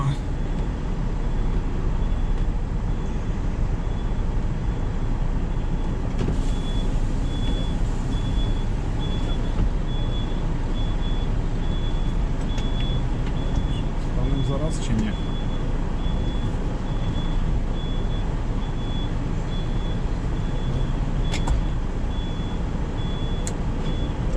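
Truck slowly maneuvering into a parking spot in New Brunswick, Canada: a steady low engine rumble throughout, with a faint continuous reversing beep from about six seconds and occasional clunks, under intermittent nearby talk.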